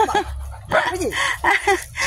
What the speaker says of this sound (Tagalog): kanino aso yan